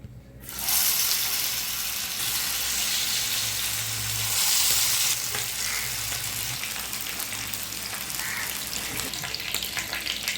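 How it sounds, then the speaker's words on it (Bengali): Chicken pieces fry in oil, a loud, dense sizzle that bursts in after a brief quiet start and crackles steadily up close for the rest of the clip. "মাংসগুলো আমি ভেজে নেব।"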